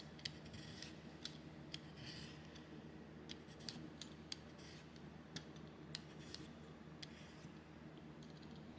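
Potato being cut and shaped into a stylus form, giving soft, scattered clicking and scraping snips over a low steady background hum, fairly quiet and close, with no talking.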